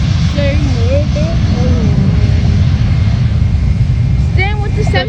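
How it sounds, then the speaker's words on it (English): A JetBlue Airbus A320 jet airliner takes off at Fort Lauderdale, its engines roaring loudly and steadily from start to finish, with whistling tones and nearby voices heard over the roar. "It's an Airbus A320. 232. JetBlue taking off."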